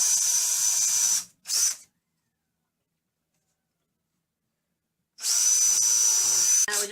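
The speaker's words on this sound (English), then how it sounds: "Now we're just going to run our countersink bit so that the head of our screw is recessed below the surface" A drill spins a countersink bit into an old mitre sled to recess screw heads, two short high whirring runs, a pause of silence, then another sustained run, close and clear with no speech.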